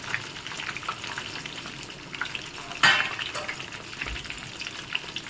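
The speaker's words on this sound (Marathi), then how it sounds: "तळताना मोठ्या गॅसवरतीच तळायचा" Medu vada deep frying in oil over a high flame, a steady close bubbling sizzle throughout with a brief louder spatter midway.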